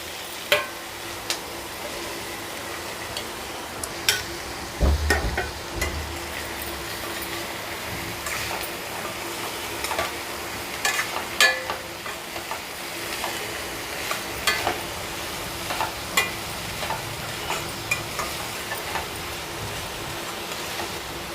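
Small chopped ivy gourd pieces fry with onions in a pan, giving a steady low sizzle under frequent scraping stirs and light ticks, with a dull thump early on. It is close, continuous and wordless.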